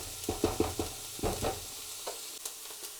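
Onions fry in a Ninja Foodi multicooker pot, a soft sizzle broken by several scraping stirs of a utensil against the pan, close and fairly quiet.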